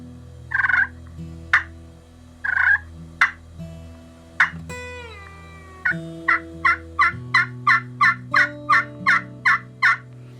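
A series of sharp, clucking yelps from a turkey pot call, a few spaced notes and then a rapid rhythmic run of about a dozen, close and clear with no talking.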